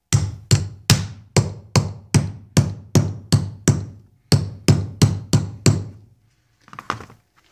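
A 21mm socket serves as a driver to tap a seal into place during a Johnson 15 HP outboard powerhead rebuild, giving about fourteen sharp, close, evenly spaced metallic thunks followed by a couple of faint knocks.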